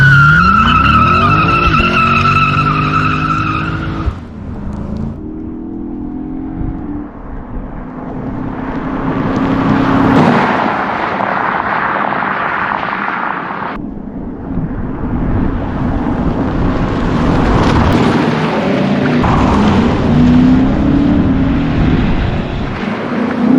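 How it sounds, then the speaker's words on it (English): Lexus IS 500 sedan rolls over rough pavement with a loud, continuous roar of tires and engine, the broadband road noise surging and easing through tighter turns, with no talk. "So this next section is rough pavement, you can hear,"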